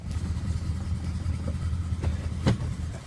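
A 1971 Oldsmobile Cutlass V8, cold and prone to stalling, idles as it warms up, giving a steady close low rumble with a brief rise in the exhaust note near the end.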